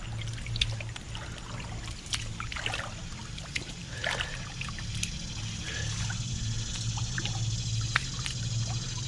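Water pours and trickles steadily over a waterproof WOWTAC A5 flashlight, washing off dirt outdoors, with a continuous splashing flow and a low background rumble throughout.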